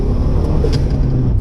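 A modified Renault Megane R26 pulls briefly in second gear to about 3,500 rpm, a steady close engine drone with a faint higher whine, short and unbroken, no voices.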